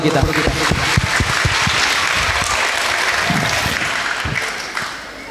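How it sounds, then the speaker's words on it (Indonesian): An audience at a school assembly applauds its teachers with loud, sustained clapping and some crowd noise, tapering off toward the end. "Tepuk tangan untuk guru-guru kita."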